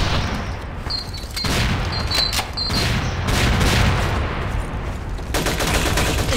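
Gunfire in the online shooter Rush Team, loud continuous bursts of automatic fire and booming shots filling the whole stretch, up close and with no talk over it.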